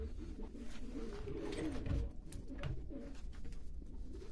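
Pigeons kept by a breeder coo softly and repeatedly, low rounded calls close by over a steady background hum.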